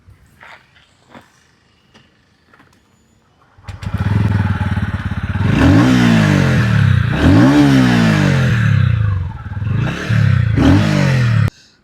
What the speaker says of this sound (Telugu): ఒక్కసారి ఇంజన్ సౌండ్ అలాగే ఎగ్జాస్ట్ నోట్ విందాం.